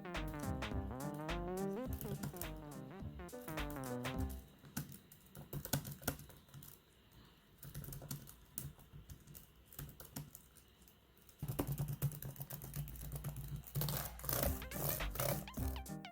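Rapid clicking of 2013 MacBook Pro laptop keys, bursts of close, crisp typing with quieter pauses between, no talking.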